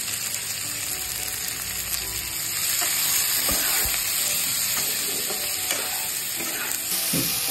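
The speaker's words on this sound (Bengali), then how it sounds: "মশলাটাকে আমি ভালো করে ভেজে নিয়েছি।" Onion, garlic, ginger and tomato masala fry in hot oil with a steady, close sizzle and occasional stirring scrapes, no voices present.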